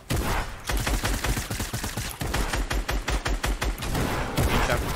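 Loud, dense gunfire in the Fortnite Battle Royale video game, rapid repeated shots in fast bursts filling the whole stretch, with a near continuous fusillade and no pauses.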